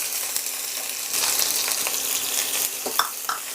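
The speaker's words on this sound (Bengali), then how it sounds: "পেঁয়াজটাই তেলের মধ্যেই ভেজে নেব।" Chopped medium onions sizzle steadily in hot oil with a couple of cardamom pods while being cooked for Kashmiri dum aloo, a close, continuous frying hiss with a few brief stirring clinks near the end.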